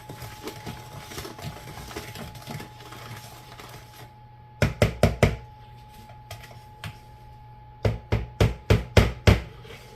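A vinaigrette-style dressing is stirred in a bowl for chicken salad, with quick rhythmic clinks and taps of a utensil against the bowl in two short bursts over a faint background hum.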